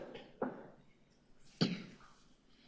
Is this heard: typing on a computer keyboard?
no